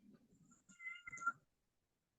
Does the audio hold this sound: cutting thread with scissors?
no